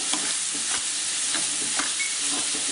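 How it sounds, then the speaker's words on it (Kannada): Grated tender jackfruit palya is stirred in a hot pan, a steady close sizzle with soft repeated scraping strokes every half second or so, no voices. "ನಿಧಾನವಾಗಿ ಹಾಕಿ ಹಾಗೆ ಅದನ್ನು ಕೈಯಾಡಿ"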